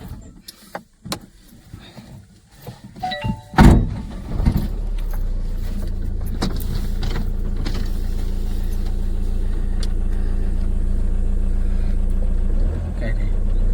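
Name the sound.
keys unlocking a lock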